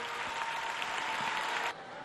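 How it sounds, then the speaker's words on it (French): A ceremony audience at an official platform launch in Chad applauds a speaker, a steady wash of clapping that drops in level near the end. "Est-ce qu'on peut applaudir très très fort pour elle"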